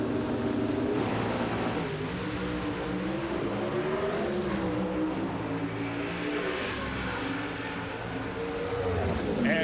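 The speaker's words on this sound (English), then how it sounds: "The engine's coming up against the limiters." A drag racing car engine at the 1995 NHRA Winter Nationals runs up against its rev limiter, giving a dense, sustained roar with a steady harmonic drone heard at a distance throughout.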